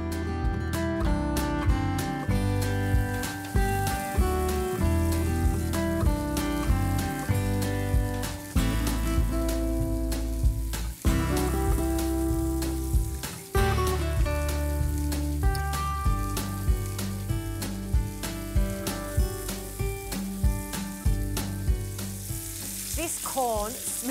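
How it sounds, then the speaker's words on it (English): Corn on the cob cooks on a grill pan while being basted with savory butter, producing a loud, continuous sizzle and crackle with occasional shifts as the cobs are moved, and no talking. "I'm going to cook this and constantly baste it with this lovely savory butter"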